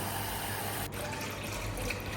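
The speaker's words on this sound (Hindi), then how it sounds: "सोप बेस को मेल्ट करने के लिए हम पानी भर लेते हैं" Water running steadily into a pot from a tap, a continuous faint gushing hiss with no talk, filling a vessel for melting soap base in a home kitchen.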